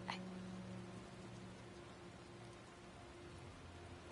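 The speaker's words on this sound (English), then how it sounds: "look at the raindrops in this game" Steady rain falls in a Spider-Man video game, a soft, even hiss of raindrops that stays faint and constant throughout, with no talk over it.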